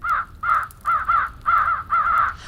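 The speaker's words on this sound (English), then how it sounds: "The wild crows flew in one great flock towards Dorothy and her companions" Crows caw loudly in a story sound effect, a flock of wild crows giving six harsh, evenly spaced calls in a steady rhythm, close and clear with no voices.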